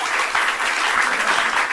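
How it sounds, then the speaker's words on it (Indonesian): Studio audience of a live televised talk show applauding, a dense burst of steady clapping that fills the short stretch with no talk over it. "kasih tepuk tangan dong"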